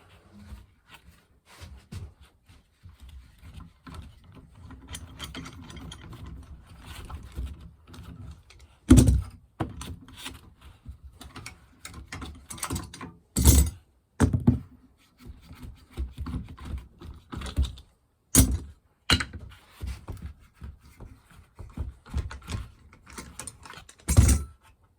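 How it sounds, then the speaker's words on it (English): Clamps being taken off a glued guitar body in a workshop, with a run of small clicks and rattles broken by several sharp, loud knocks and thunks of the clamps, close up with no speech. "So let's get the clamps off."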